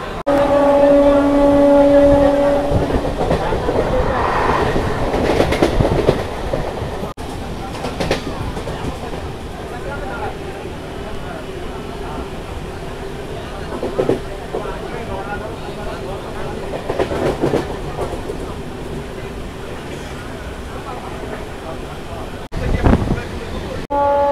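A new Howrah–Purulia local train on its first run rumbles steadily, opening with a loud two-tone horn blast. Wheel clatter and a sustained roar continue near and loud, with a voice talking over it and another horn at the end.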